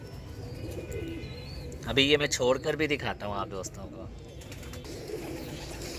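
Slate grey pigeons coo softly in the background, with a brief louder burst of calls near the middle. Someone talks over them throughout.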